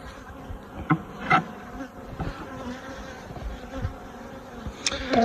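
Honeybees buzz steadily around an open hive at a cooperative apiary while a beekeeper works with a frame where the colony is drawing new wax comb, with a few louder close passes of individual bees over the drone.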